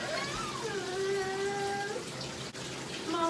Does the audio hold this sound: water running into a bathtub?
yes